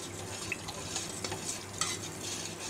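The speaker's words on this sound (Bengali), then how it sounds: "1-2টা বলক আসা পর্যন্ত আমি অনবরতভাবে নাড়তে থাকব, যাতে দলা না হয়ে যায়" Thickened milk pudding mixture stirred continuously in a pot on the stove. A soft, steady scraping with faint bubbling runs underneath, and occasional light clinks of the utensil sound against the pot.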